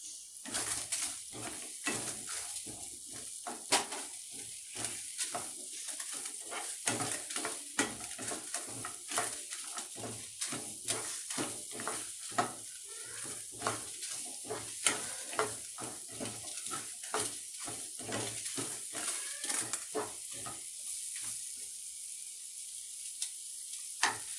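Onions and red chili are sautéed in a pan for paneer butter masala. A steady, fairly quiet sizzle runs throughout, broken by frequent irregular scrapes and taps of a spatula stirring, with no voices.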